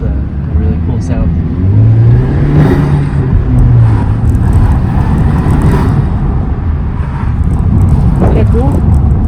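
A car with a newly installed aftermarket air intake revs under a steady engine drone, the engine note rising and falling in swells, with voices talking over it throughout.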